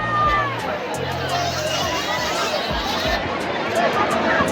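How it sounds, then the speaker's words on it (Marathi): Dense crowd chatter at the Jagannath Puri Rath Yatra chariot festival, a loud, continuous babble of many voices close around, with a low rumble beneath and no single voice standing out. "खूप गर्दी आहे गाईस"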